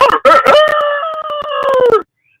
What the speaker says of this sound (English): I kept on hearing that rooster.